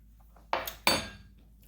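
Coffee chocolate barbecue rub with brown sugar being stirred in a bowl, two distinct clinks of a utensil against the dish, close and sharp, over quiet background without talking.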